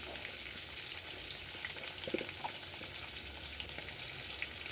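Chopped garlic frying in a pan with a steady, quiet sizzle that holds evenly throughout, with a few faint stirring clicks and no voices.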